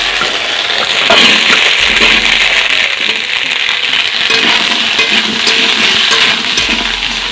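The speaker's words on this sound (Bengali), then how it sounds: "এখন আমি আনাজগুলো উঠে দিচ্ছি" Vegetables go into a hot pan of frying curry for chorchori with ginger and spices, giving a loud, continuous, steady sizzle with faint stirring clatter.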